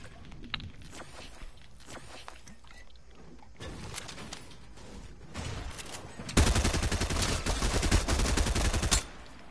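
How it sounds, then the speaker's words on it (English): Gunfire in a video game during a live stream, with dense rapid bursts rising loud and sustained in the second half after quieter scattered shots and movement sounds. "He just shot at me."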